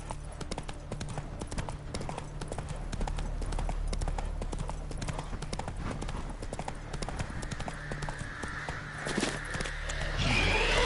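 A horse gallops in the video game Witcher 3, with rapid rhythmic hoofbeats thudding close and steady throughout, a brief whinny-like rise near the end, and no talking.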